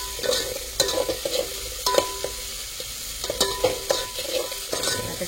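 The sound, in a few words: tomatoes frying in tempering oil with spices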